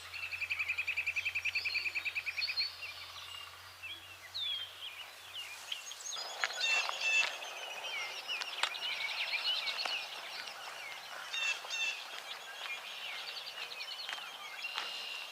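Birds sing on a wooded stretch of the Appalachian Trail near Duncannon in May, with several high chirps and trills layered over a steady outdoor hiss. A low hum fades out early on.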